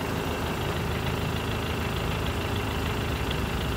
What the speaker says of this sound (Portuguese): Como tá a lenta dela.